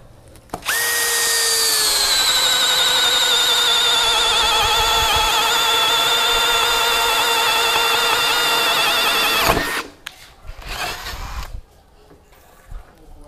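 A Bosch drill driving a spade bit through wood whines loud and steady for about nine seconds, then cuts off, followed by brief rattling handling noises.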